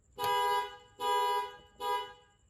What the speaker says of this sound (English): when you reconnect the connectors, your alarm will go off and it is pretty loud